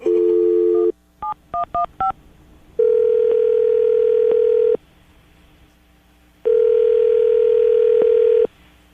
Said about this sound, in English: we're going to dial the phone number right now